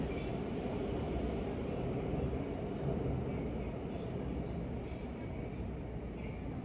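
Subway train in motion, a loud continuous rumble and rattle of wheels on track filling the whole stretch, with faint higher squeaks and no clear talk.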